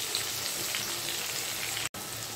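Onions fry in oil in a pan, a loud, dense, continuous sizzle close up that fills the whole stretch, broken only by a momentary dropout.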